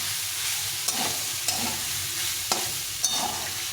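Leftover rice, chilled in the fridge until dry and separate, stir-fried into fried rice in a pan, with a continuous close sizzle and a few sharp spatula scrapes and taps at irregular intervals.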